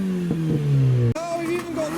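A car engine at a modified car show revs with a rising and falling pitch, loud and close, then a second rev pattern takes over halfway through, with possible voices in the background.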